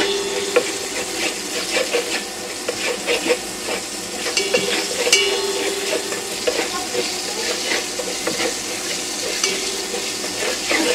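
Turmeric powder frying in hot oil while okra and rohu fish are cooked, a steady close crackling sizzle with scraping stirs of a utensil against the pan throughout, no voices.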